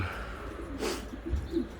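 Elvan flight pigeons coo softly in a loft, low murmuring calls with a brief flutter in the middle, close by with no talking.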